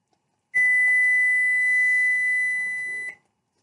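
A kitchen timer, set for one minute while no-bake cookie mixture boils on the stove, gives one long, loud, steady electronic beep of about two and a half seconds that then cuts off.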